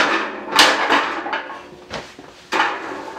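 A Hazet Mini Assi 160 tool trolley being folded up, giving a series of loud metallic clacks and rattles at irregular intervals, with a sharp clatter near the end.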